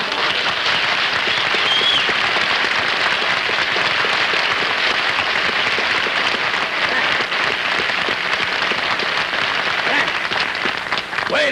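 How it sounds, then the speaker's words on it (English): A television studio audience at a live comedy variety show applauds steadily for over ten seconds, a broad, even wash of many hands clapping with no pauses and no speech on top. "you didn't give me that much applause."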